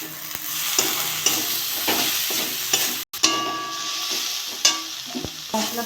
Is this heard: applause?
no